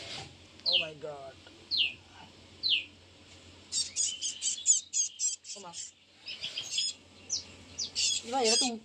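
Three fully grown baby birds chirp and squawk close by in quick, sharp bursts, with pauses between calls, while a person exclaims briefly.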